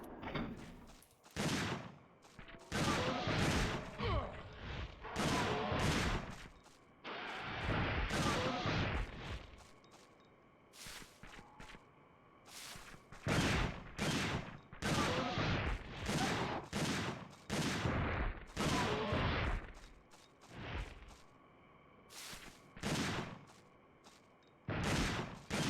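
Video game gunfire in Dino Crisis 2, loud bursts of rapid shots coming in repeated volleys separated by short pauses, close and sharp with no talking.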